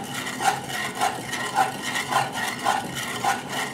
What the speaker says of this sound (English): Go ahead and start stirring it.